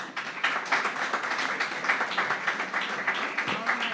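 Audience applause fills a room at a company annual general meeting, a steady dense wash of clapping held at even loudness throughout, with no voices standing out.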